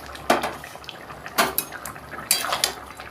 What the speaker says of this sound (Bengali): আর এর মধ্যে আমি চিংড়ি মাছ ছেড়ে দিলাম।